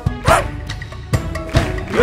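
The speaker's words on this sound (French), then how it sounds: "Le petit chien, petit chien" A small dog in a French children's nursery-rhyme song gives several short yapping barks, loud and close, at irregular intervals.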